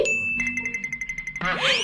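A bright chime rings out, followed by a quick run of about a dozen tinkling ding notes, then a rising sparkly flourish.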